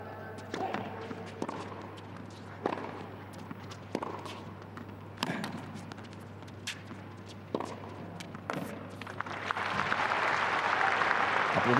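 Spectators applaud at a 2013 Moscow women's tennis match between Samantha Stosur and Svetlana Kuznetsova, with scattered sharp impacts and footsteps before a sustained, fairly loud wave of clapping builds toward the end.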